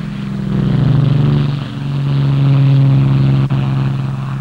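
Supermarine Seafire 47 fighter aircraft, last of the Spitfire line, drones with a steady, loud piston engine note that swells slightly as it passes close by.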